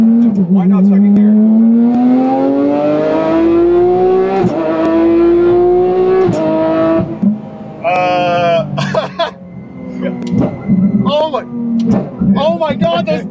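A Porsche GT3 RS engine revs hard and climbs in pitch, then snaps through sharp downshifts with blips and crackles, loud and close from inside the car, while people speak and exclaim over it.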